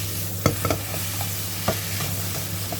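Tomatoes, kale and egg stir-fried in a pan: a steady sizzle with several sharp scraping strokes of the spatula, close and clear, no speech.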